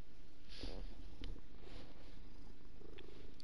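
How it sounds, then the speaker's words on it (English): A cat purrs close by, a low continuous rumbling murmur under faint background hiss, with a couple of brief brighter bursts early on; no one speaks. "I'm trying to get you guys to hear her purr."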